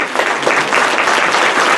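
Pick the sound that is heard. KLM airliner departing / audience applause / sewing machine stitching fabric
audience applause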